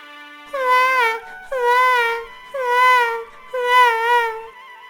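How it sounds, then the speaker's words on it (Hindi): A cartoon baby wails in four long, rising-and-falling cries separated by short breaths, clear and close with nothing else around. "बच्चे की रोने की आवाज कहाँ से आ रही है?"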